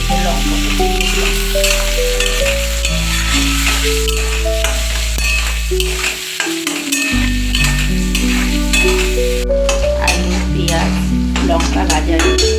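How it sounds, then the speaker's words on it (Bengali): Green chillies fry in a pan with oil while making homemade chowmein. A steady sizzle plays under continuous backing music throughout. "লঙ্কা ভাজা রয়েছে"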